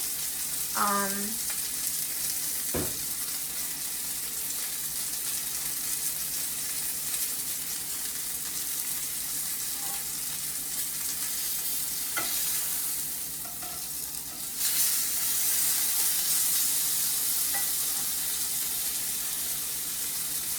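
Chicken pieces with Italian seasoning fry in a pan, a steady close sizzle running throughout, broken by a few sharp clinks and scrapes of stirring and a brief burst of running water.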